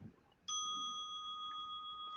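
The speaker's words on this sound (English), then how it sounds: "Hear the sound of that bell." A single bell strikes and rings on with a clear, steady sustained tone, slowly fading in a quiet room.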